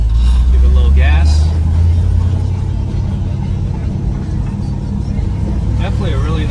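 1960 Chevrolet Impala V8 engine rising in a strong low rumble as throttle is applied, then settling into a steady drone while driving, with brief voices over it.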